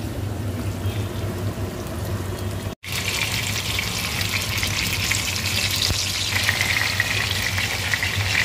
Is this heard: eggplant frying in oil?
yes